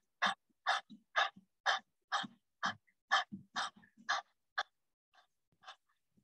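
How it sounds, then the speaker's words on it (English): Rapid, rhythmic breath of fire during a yoga session: about ten sharp, evenly spaced forceful exhales close to the microphone, trailing off into a few softer breaths, with no speech. "Squeeze the navel to the spine and do a few more breaths of fire"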